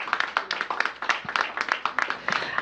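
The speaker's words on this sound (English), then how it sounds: "Let's give her a big round of applause." Scattered clapping from a small crowd at a mayoral child care event, a handful of distinct, uneven hand claps close by rather than a full wash of applause.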